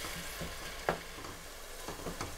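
Mutton keema with spinach and dried fenugreek being stirred in a pan, with a soft ongoing sizzle and a few scattered scraping clinks of the spoon, one sharper knock near the start.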